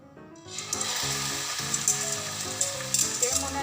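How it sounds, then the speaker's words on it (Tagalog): Marinated chicken legs sear in a dry non-stick pan with no oil, giving a steady, close sizzle and crackle that rises after a brief quiet start and holds with occasional sharper pops. "So, i-sear muna natin. Ito walang mantika ha. Kasi non-stick siya."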